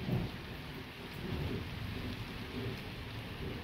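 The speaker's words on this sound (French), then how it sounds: "Là c'est l'orage le plus actif de l'été." A strong night thunderstorm in mid-August pours down as continuous heavy rain, with deep rolling thunder rumbling underneath throughout and no voices.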